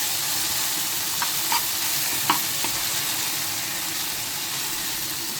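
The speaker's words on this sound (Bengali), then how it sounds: "দেখছেন আমার ভাজি, আমার অসাধারণ দক্ষতা দিয়ে ভাজি করে দিই" A vegetable bhaji fries in a pan with a continuous loud sizzle and hiss, broken by a few sharp clicks and scrapes from stirring, close up, no talking.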